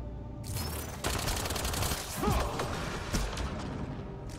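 Rifle fire in the sci-fi shooter Mass Effect: Andromeda, a dense burst of rapid shots with energy whooshes and mechanical clicks, loud and continuous with no talking.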